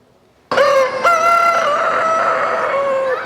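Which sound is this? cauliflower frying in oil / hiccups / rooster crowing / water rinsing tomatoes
rooster crowing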